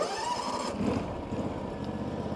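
A John Deere X300 lawn tractor with a Kawasaki engine runs at a steady low idle, a smooth, fairly quiet hum heard close, with a faint shift in tone partway through and no talking.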